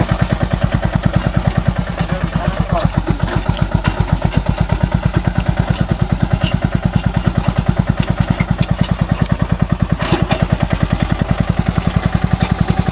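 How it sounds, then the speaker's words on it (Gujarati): A modified Saneda jugaad tractor fitted with two ploughs works a field, raising earth ridges. Its engine runs loud and close with a fast, steady thumping beat and a clattery edge throughout, and no one speaks. "આવી રીતનું કંઈક હાલ્યું જાય છે ટ્રેક્ટર."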